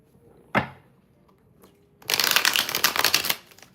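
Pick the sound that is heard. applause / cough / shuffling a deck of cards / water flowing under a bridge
shuffling a deck of cards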